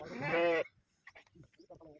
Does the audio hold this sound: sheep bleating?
yes